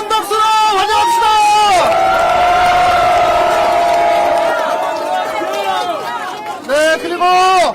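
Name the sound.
crowd applause and cheering at a rally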